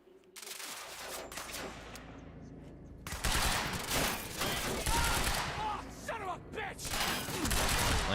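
Sustained bursts of gunfire from a shooter in Quantum Break, dense and loud, with rapid repeated shots running through most of the stretch after a quieter opening.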